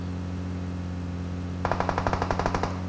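Automatic gunfire in PUBG Mobile, a rapid burst of about a dozen evenly spaced shots in the second half, loud over steady low game background hum.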